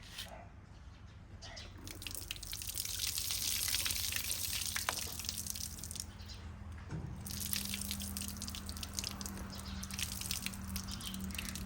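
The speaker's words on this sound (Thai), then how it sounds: "เราจะเทน้ำเปล่านะคะ ในถาด นี้ออกเลยนะคะ" Plain water poured out of a hydroponic seedling tray set under a house's eaves, a steady splashing gush and trickle that runs for several seconds with a few changes in flow, without any talking.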